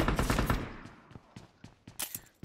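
Automatic gunfire in the PUBG Mobile battle royale game, a dense burst of rapid shots at first that thins into a string of separate, sharp single cracks spaced out over a couple of seconds, with no talk.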